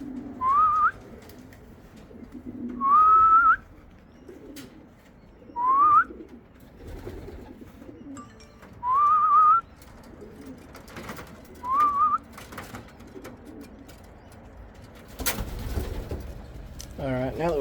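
Racing pigeons at a loft give soft, low coos between five sharp, rising whistles spaced a few seconds apart, followed near the end by a brief burst of broader fluttering noise, all fairly close and quiet.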